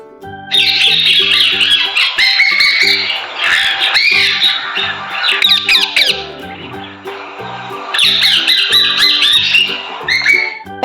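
A parrot gives loud, harsh squawks in repeated bursts with short pauses between them. The calls are close and there is no talking.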